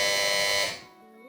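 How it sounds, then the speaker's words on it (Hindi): A quiz-show buzzer pressed by a team on a children's program gives one loud, steady electronic tone that holds for about half a second and then cuts off. "तो इस बार सबसे पहले बज़र बजाया है टीम बी ने।"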